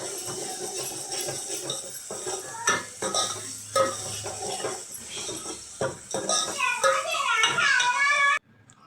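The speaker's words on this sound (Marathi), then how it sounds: "त्याला छान तेलात भाजू द्या" Ground masala fries in oil in a pan for a Maharashtrian katachi amti, with a soft sizzle under repeated spoon scraping and stirring clatter against the pan, near and moderately loud, while someone talks intermittently.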